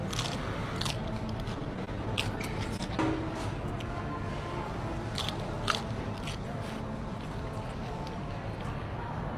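Crisp bites into fried chicken skin chips served as a topping, with repeated sharp crunches scattered over steady background noise at a meal.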